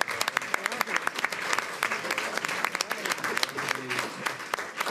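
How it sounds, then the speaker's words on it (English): Steady applause from an audience at a school board meeting, many overlapping claps at moderate level throughout the few seconds. "I think our teachers deserve a round of applause."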